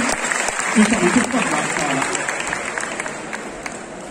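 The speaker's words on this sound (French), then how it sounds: "on applaudit encore une fois bien fort notre jury" An audience at a cosplay contest in Nantes applauds the jury, a steady wash of clapping that swells briefly and then holds at a moderate level, with a voice faintly audible beneath it.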